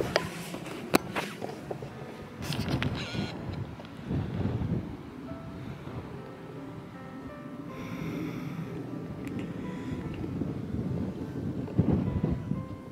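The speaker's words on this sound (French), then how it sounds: "il y a beaucoup de vent" Strong gusts buffet the microphone at an outdoor mountain picnic spot, a rough, continuous roar that swells and eases over several seconds, close and loud.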